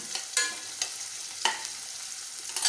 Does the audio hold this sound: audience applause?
no